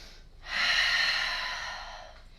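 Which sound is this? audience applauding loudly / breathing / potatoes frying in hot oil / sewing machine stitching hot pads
breathing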